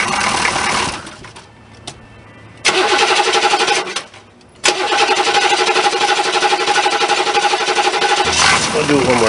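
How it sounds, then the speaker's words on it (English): A diesel engine with its glow plugs disconnected cranks over repeatedly without catching, loud rapid whirring bursts broken by short pauses, close to the microphone. "No glow plugs. Crank her up!"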